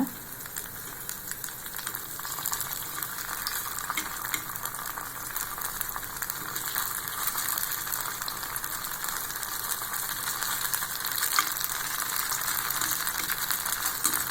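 Sweet paniyaram fry in a pan with a soft, constant crackle. Faint scraping and clicking suggest the pieces being turned over. The sound stays steady and moderately close, and no one speaks.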